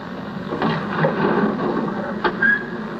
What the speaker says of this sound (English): Instead of scraping along, the door must sound as if it glides.